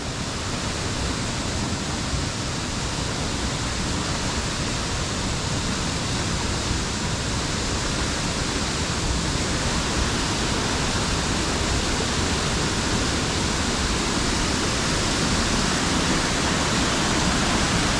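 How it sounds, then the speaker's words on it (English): Water from a waterfall crashes and splashes off three remaining stone pillars, a dense, steady roar of rushing water holding at constant loudness throughout, with no voices. "you can see the water splashing off the top of the 3 pillars of stone which is left"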